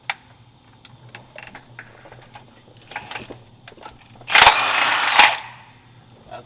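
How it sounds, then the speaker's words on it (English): A power tool spins out a side bolt on a car transmission in a home garage, a short loud burst of whirring after a stretch of quieter clicks and handling noises. "Let me see if I can get this side bolt out."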